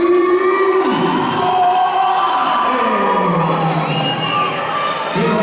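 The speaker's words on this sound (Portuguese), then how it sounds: "Senhoras e senhores, façam barulho" A fight-night crowd at Minas Combat 2 cheers and shouts loudly and steadily for a 66 kg fighter's ring entrance, a dense wall of voices with whoops rising through it.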